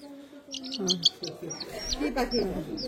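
A pet chick gives repeated high, thin peeping calls in quick short bursts, close by and fairly clear, with people talking underneath.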